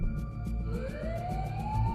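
An ambulance siren wails, its pitch sweeping upward steadily, heard at moderate distance over a low rumbling background.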